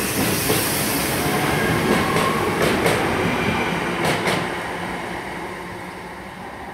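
A Class 323 electric passenger train passes at Five Ways station in Birmingham, a loud, steady rumble of wheels with a few rhythmic rail-joint clicks, gradually fading as it moves away.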